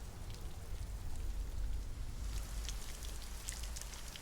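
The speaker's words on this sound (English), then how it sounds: "Oh, the rain." Steady rain falls in an even, continuous hiss with scattered brighter drops, fairly quiet and constant, with no voices.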